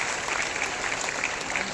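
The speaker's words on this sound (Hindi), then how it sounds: "इनके लिए भी एक बार जबरदस्त ताली होना चाहिए।" Enthusiastic audience applause fills a hall, a dense, steady wash of clapping at close range that holds at even loudness from start to finish.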